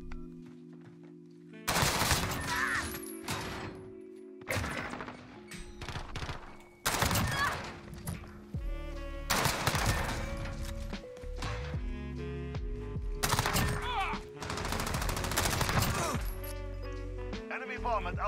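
Bursts of loud gunfire fill a first-person shooter video game, with automatic fusillades and heavy single shots spread across the clip under mechanical game sounds and players' voices.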